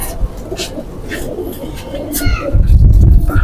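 Pigeons kept by a fancier coo in soft low bursts close by, mixed with other bird calls and voices talking, the cooing growing fuller and louder toward the end.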